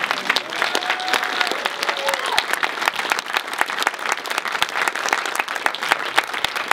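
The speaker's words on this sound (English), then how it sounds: "I think a round of applause for Kathy." Applause from the audience at a film Q&A with the directors, a room of people clapping with distinct individual claps audible, steady and fairly close, with a faint voice briefly under it.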